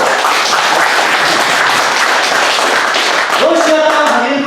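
Audience applause at a 2021 political lecture in Korea, a dense steady wash of many hands clapping throughout, fairly loud, with tonal voices or cheering rising near the end.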